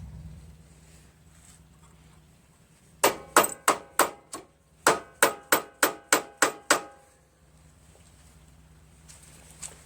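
A hammer strikes metal parts of a Troy-Bilt MTD Pony Super Bronco lawn tractor in a rapid burst of about twelve sharp, ringing blows, spaced evenly in two runs, with quiet before and after.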